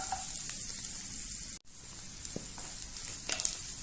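Sliced onions frying in a pan for an egg dish, a steady soft sizzle that runs continuously with a brief drop in the middle and faint clinks of stirring.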